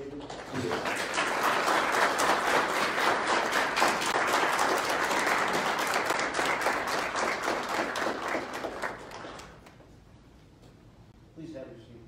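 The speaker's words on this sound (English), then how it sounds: "give a round of applause to Colonel David Hill" An audience at a JROTC military awards ceremony applauds for an honoree, dense steady clapping that carries for about nine seconds before dropping away to near quiet, with a brief burst of sound near the end.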